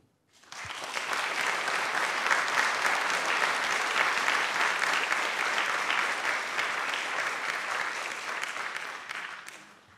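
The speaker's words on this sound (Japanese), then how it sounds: "賛成の方拍手の方をお願いいたします" Football club supporters at a fan meeting clap together in a steady, dense wave of applause, casting a vote in favour of a team name change; the sound rises quickly, holds evenly, then tapers.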